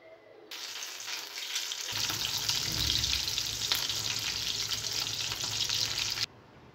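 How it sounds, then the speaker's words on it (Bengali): Eggs fry in hot oil with a loud, hissing sizzle that starts suddenly, holds steady for several seconds, then cuts off. "আমার তেল গরম হয়ে গেছে, এখন আমি ডিমগুলো এক এক করে ভেজে নিই"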